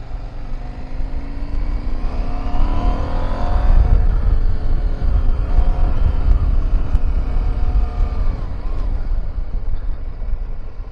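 A KTM 790 Adventure motorcycle engine in rally mode rumbles and revs, rising and falling in pitch, with heavy wind buffeting over the microphone throughout.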